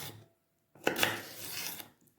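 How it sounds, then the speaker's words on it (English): Kitchen knife slicing through garden peppers, a brief scraping cut with a couple of soft knocks on the board, close and quiet. "I'm just gonna slice the peppers"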